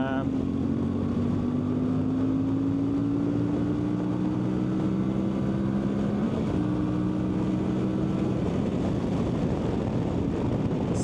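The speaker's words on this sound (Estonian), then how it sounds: "sellepärast et siis te kuulete seda mootori heli ja kõike seda nagu rohkem" A CFMOTO 450MT motorcycle engine hums steadily while riding on the road, its pitch climbing slowly as the bike accelerates, under constant rushing wind noise and a voice talking.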